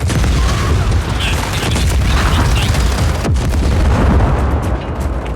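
Heavy, booming cannon blasts from Just Cause 4 gameplay rumble continuously over a dense wall of low-frequency noise, loud and close, with brief sharper bursts mixed in.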